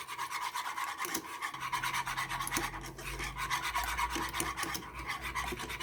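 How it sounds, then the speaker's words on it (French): A spoon stirs a sugary chocolate cake sauce in a pan over low heat, giving a steady rasping scrape that runs without pause over a low background hum, close and fairly quiet. "Je vais mélanger ça et je vais y mettre sur feu doux."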